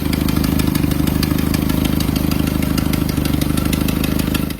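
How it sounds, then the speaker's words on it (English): A restored 1941 Willys MB jeep's 134 cubic inch L-head Go Devil four-cylinder runs close and loud, a steady rapid chugging pulse with a rattly ticking edge throughout, then tapering at the end. "a gear drive L-head 134 cubic inch Go Devil 4-cylinder engine"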